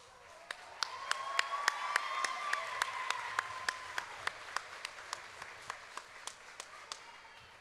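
Audience applause at a Choctaw Nation princess pageant, filling the room with dense, steady clapping. Sharp individual claps pop out near the microphone, and faint tones from the room sound under the crowd.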